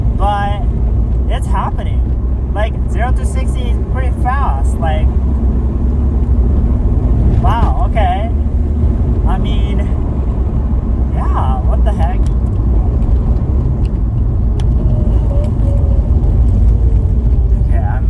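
A car accelerating hard uphill, with steady loud engine and road drone inside the cabin, while a person talks over it throughout.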